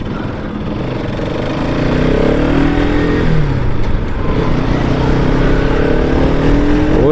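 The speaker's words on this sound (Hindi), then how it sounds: "रवि अब तो सही भाग गई अब कोई प्रॉब्लम नहीं आ रही है मुझे" A Bajaj Pulsar RS200 motorcycle, just serviced with new oil, fuel and air filters, rides with a steady, loud engine drone that rises as it accelerates, heard close up without talk.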